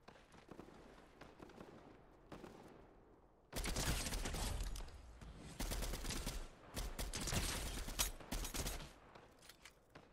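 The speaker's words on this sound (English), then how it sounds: "There's a lot of shooting going on over this side of the map." Video game gunfire, sustained bursts of automatic shooting and overlapping shots, loud and dense for several seconds after a quieter stretch of scattered distant pops, with no voices.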